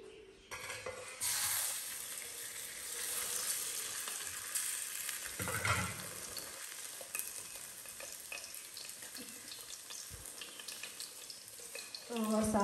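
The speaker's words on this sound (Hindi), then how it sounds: "देखिए घी गरम हो चुका है और अभी इसमें हम डाल देंगे" Food hits hot ghee in a village kitchen and fries with a steady sizzle, along with stirring and utensil scrapes against the pan, fairly quiet and close, with a few short louder bursts.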